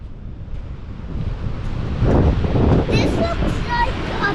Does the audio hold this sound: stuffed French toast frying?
no